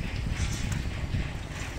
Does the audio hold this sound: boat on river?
yes